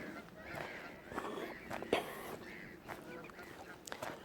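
Geese honk repeatedly outdoors at the Widdop and Gorple reservoirs in Yorkshire, a busy overlapping chorus of calls at moderate distance with some background voices and ambient noise.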